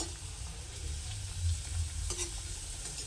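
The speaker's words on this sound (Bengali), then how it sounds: "এভাবে আমি প্রত্যেকটা কচুরি ভেজে নেব" Paneer kachori deep frying in hot oil makes a close, steady bubbling sizzle with soft stirring and a brief clink, and no voices.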